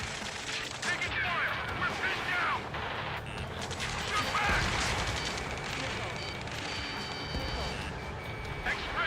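Far-off gunfire battle in a video game, a steady rattle of distant shots and bursts running continuously under an electronic cockpit warning tone, with a person talking over it.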